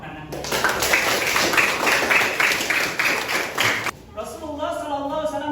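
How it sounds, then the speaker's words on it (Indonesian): Clapping hands for about three and a half seconds in a dense, close burst of rhythmic claps, stopping abruptly before a voice begins. "Terima kasih, tepuk tangan."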